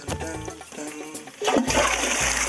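A toilet flushes nearby in the Australian outback, with a gurgling rush of water that swells into a loud, steady wash of draining water.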